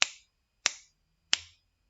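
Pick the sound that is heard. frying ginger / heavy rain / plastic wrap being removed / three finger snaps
three finger snaps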